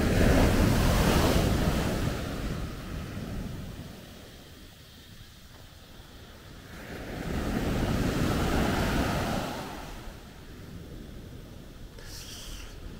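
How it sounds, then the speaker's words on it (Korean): Strong surf rolls in on Natai Beach at Khao Lak in Thailand. Two big swells rise into a roaring wash and fade again, with wind buffeting the microphone and no voices. "건기임에도 파도가 세가지고"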